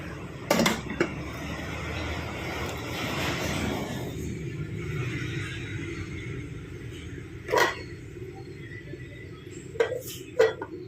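A metal lid set down over a cooking pot of chathurappuli pulissery, with sharp clanks and clinks standing out above a low simmering hiss, a few separate knocks spaced over several seconds.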